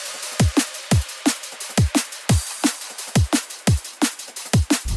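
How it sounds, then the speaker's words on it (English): Full drum and bass drum bus run through a clipper, with deep kicks, crisp snares and busy hi-hats and top loops in a fast, driving breakbeat groove, loud and dense with no voices. "So the drums altogether sounds like this."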